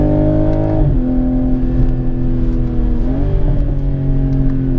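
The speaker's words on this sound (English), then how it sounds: "The intake sound is good on the motor." A BMW Z4 engine drones steadily with intake sound, a rising and falling pitch as the revs change, loud and close throughout.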